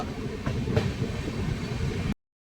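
A powerful train locomotive rumbles steadily along the rails in Gujarat with a constant, dense roar, loud and close, before cutting off abruptly.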